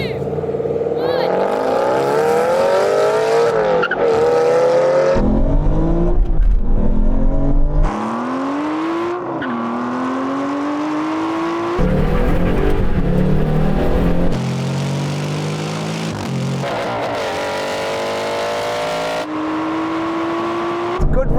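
Powerful Aston Martin sports car engines in a half-mile roll-on drag race rev hard and climb through the gears again and again, loud and close, each shift breaking the rising roar.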